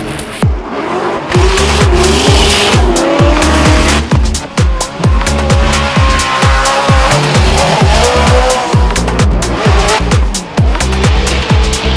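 A loud Formula Drift car engine revs hard and repeatedly through rapid gear changes, with tires squealing as it drifts around the Seattle track.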